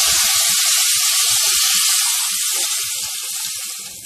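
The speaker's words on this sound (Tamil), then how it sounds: "ரசம் தாளித்து ஊற்றியாச்சு." Hot tempering poured into pepper rasam, a loud, close sizzle with a steady bright hiss and scattered low pops that slowly fades over a few seconds.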